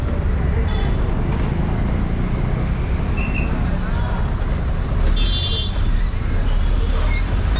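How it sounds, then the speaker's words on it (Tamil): A 104P city bus pulls in at the Kamarajar Salai stop on a Chennai route, its engine rumbling loud and steady amid constant road traffic, with a brief brake hiss near the end. "பஸ் இப்போ நிற்கிறது காமராஜர் சாலை பஸ் ஸ்டாப்"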